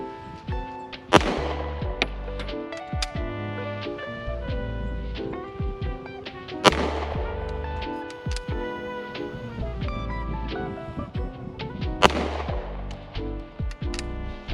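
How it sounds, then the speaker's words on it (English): A Sig Sauer P226 9mm pistol fires slow, widely spaced double-action shots outdoors, each a sharp loud crack followed by ringing and clatter, with gaps between rounds. "So, 10 yards, 10 shots, double action."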